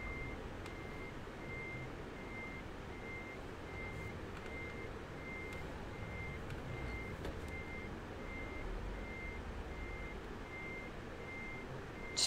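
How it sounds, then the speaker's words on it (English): Reversing beeps from a truck in Euro Truck Simulator: a steady, evenly spaced series of high beeps over a low, continuous engine rumble, moderately faint, with a few soft clicks and no voices. "Just backing in right on top of me"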